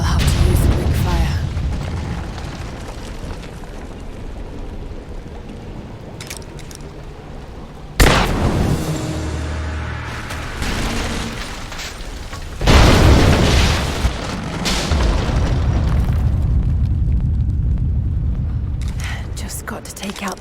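Greek fire explosions in Rise of the Tomb Raider blast the supports of an unstable statue, two loud booming bursts with crumbling debris over a rumbling backdrop.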